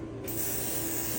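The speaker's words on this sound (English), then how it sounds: "Give them just a little extra spray down." Aerosol spray can blasting primer onto parts in a small bucket work area, a steady close hiss running continuously after a short start, alone with no talk.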